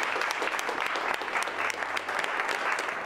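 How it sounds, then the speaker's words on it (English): A film crew audience claps in a dense, continuous wash of applause, loud and close for the whole three seconds. No speech is heard over it. "So I think you guys should give up a little round of applause for yourselves."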